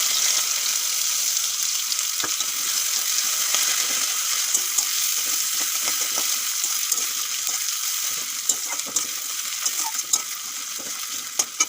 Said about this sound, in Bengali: পেঁয়াজগুলো বেশ লাল লাল করে ভেজে নেবো